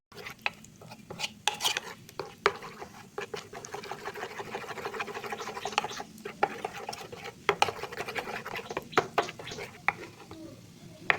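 An iron spoon stirs thick pap in a pot, giving steady scraping and sloshing with sharp metallic clinks against the pot rim at irregular moments, fairly close and alone.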